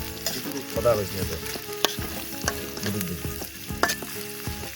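Chopped onion frying in hot oil at an outdoor night cooking party, a dense sizzle broken by repeated scraping stirs and clanks of a utensil against the pan, close and busy, no talk.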